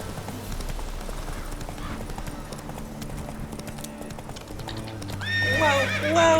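Roach, the horse in The Witcher 3: Hearts of Stone, trots with steady, close clip-clopping hooves. A loud whinny breaks in near the end.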